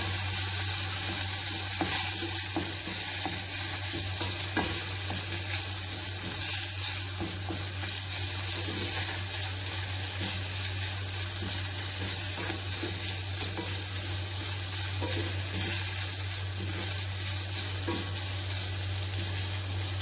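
Four pieces of shrimp sauté in a hot pan for instant noodles, giving a steady, close sizzle that runs unbroken throughout with a low hum underneath and no voices.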